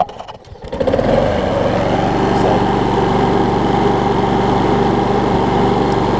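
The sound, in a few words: Toro Super Recycler lawn mower engine starting and running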